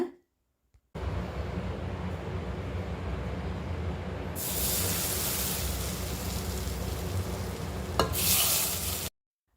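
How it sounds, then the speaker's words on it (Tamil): Hot sesame oil is poured onto baby mangoes for a pickle, bursting into a loud, continuous hiss and crackle that swells midway and cuts off abruptly, close and without talk. "வடுமாங்காயில் எண்ணெய் ஊற்றுறப்போ அந்த சவுண்டு உங்களுக்கு கேட்டிருக்கோம்"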